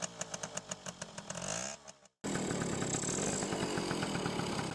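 A Yamaha TY80, a 1970s 80cc two-stroke trial motorcycle, runs with a rapid revving engine note that drops away to near silence, then resumes as a steady, loud buzzing idle, with no talk.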